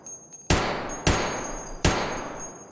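Three heavy Ash-12 rifle shots in a video game firefight, each a sharp loud crack with a lingering echoing tail, spaced unevenly about half a second to a second apart.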